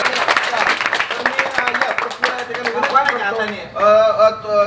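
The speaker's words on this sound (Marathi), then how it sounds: "जोरदार टाळ्या." Villagers applaud a fourth-grade boy honoured for winning a cycling race, brisk crowd clapping mixed with voices, loud and close, ending in a burst of speech.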